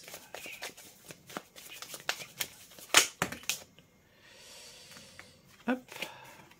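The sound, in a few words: tarot cards being shuffled and drawn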